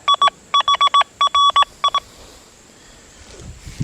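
Deus 2 metal detector with an HF2 coil passing over a gold ring gives repeated high electronic beeps in four quick clustered bursts, loud and clean, followed by quiet with faint low rumbling.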